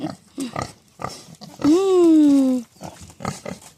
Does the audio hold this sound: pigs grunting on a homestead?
yes